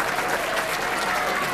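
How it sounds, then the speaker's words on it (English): Audience at a Maryland District 22 MLK Day celebration applauding the newly introduced council chair, a dense, steady round of many hands clapping close and loud throughout. "Please give her a round of applause"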